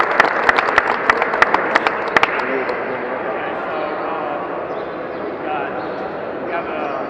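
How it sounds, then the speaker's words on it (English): An audience gives a short round of scattered applause, with sharp individual claps for the first couple of seconds before fading into murmuring room noise and voices. "You want to give another person a round of applause?"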